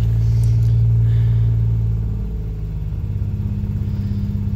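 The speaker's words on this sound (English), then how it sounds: "It's got the original muffler on it, and it's louder than shit" A 1984 Chevy Citation engine runs through its loud original muffler, a deep continuous exhaust rumble close by that settles to a lower, pulsing idle partway through.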